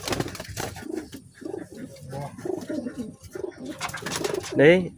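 Racing pigeons coo softly in repeated low murmurs beneath ongoing conversation, with a louder close burst near the end.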